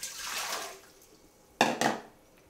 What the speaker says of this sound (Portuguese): Agora a vagem que eu tirei, olha, já deixei na água gelada, tá? Agora vou escorrer.